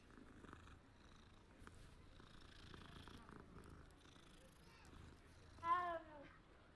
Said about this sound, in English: Pet the kitty cat.